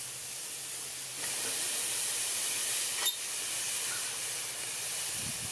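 Ribeye steaks, marinated and tenderized, sizzle on a grill over a hot fire, a steady broadband hiss that swells after the first second and holds, with a brief sharp crackle midway.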